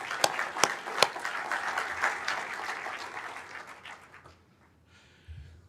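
Conference audience clapping for award winners, opening with a few sharp close claps over a broad round of applause that gradually thins and fades to near silence, followed by a brief low thump.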